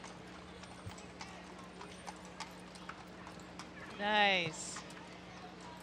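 Sheriff's office horses walking in a street parade in St. Louis Park, with faint, steady hoof clip-clop under brief talk and a single whinny rising clearly near the end.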